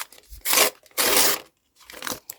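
Paper surprise packet being torn open by hand, two loud ripping bursts followed by a softer crinkle and rustle, close and alone.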